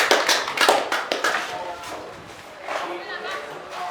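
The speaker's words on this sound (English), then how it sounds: "Please clap for those that have responded and the person who has the question." A physics class claps in a classroom, a burst of scattered hand claps in the first second or two that thins out under a voice speaking.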